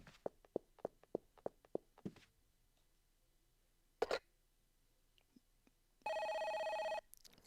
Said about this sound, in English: Ring, ring, ring.